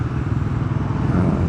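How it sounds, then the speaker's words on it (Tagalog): A motorcycle engine drones steadily and loudly during a ride from Santa Rosa, Laguna toward Baras, Rizal, with a close, continuous low rumble and no voices. "motor na ako guys"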